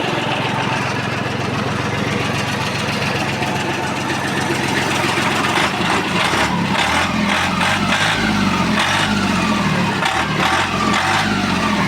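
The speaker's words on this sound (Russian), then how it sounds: "На педаль газа откликается бодренько, без задержек, обороты быстро набирает." A Mitsubishi MT205 Japanese mini tractor engine runs close and loud, chugging at a steady idle before revving up quickly and holding higher, uneven revs.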